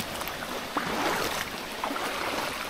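Flowing stream water near a farm lot, a continuous close rushing and babbling with small splashes, steady and unbroken, with no voices.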